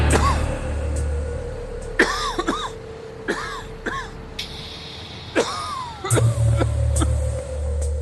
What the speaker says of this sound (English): I was quite breathless and constantly coughing and coughing